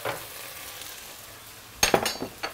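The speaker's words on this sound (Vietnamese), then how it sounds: "rau muống bào rồi mới xào lên" Shaved water spinach stir-fried with garlic in a pan, a soft background sizzle that breaks into a loud burst of crackling and clinking toss strokes near the end, close up.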